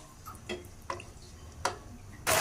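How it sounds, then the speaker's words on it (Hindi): Water poured into makhandi halwa as it cooks in the pan: a few faint ticks and drips, then a sudden loud hissing sizzle that fills the final moments. "तो अब हम इसमें थोड़ा सा पानी डालेंगे।"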